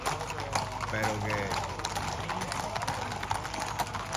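Horses' hooves clip-clop steadily at a romería pilgrimage in Montellano, Seville, with many horses and carts on the move, the hoofbeats running continuously under people talking nearby.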